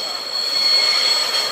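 A Class 144 train passing Lincoln Central level crossing, loud and close, with a steady high metallic wheel squeal sustained over a rumbling rush of rail noise.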